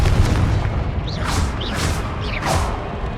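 Confringo, an explosive spell cast in the video game Hogwarts Legacy, goes off as loud booming blasts over a rumbling background, with several whooshing bursts in the later half.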